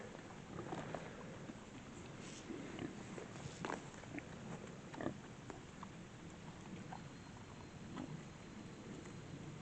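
Soft, close crunching and chewing sounds of pigs munching fresh grass in a field, with occasional faint grunts, fairly quiet and continuous.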